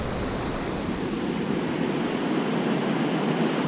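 Forest river in the Ouachita National Forest running high after overnight rain, a loud, steady broadband roar of rushing water, close and continuous with no pauses.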